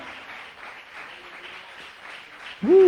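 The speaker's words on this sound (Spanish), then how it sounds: "Alguien puede aplaudir alabar el nombre del Señor." Applause from a church congregation at a prophetic anointing service, a steady wash of many hands clapping that carries on throughout, with a loud shout or sung voice breaking in near the end.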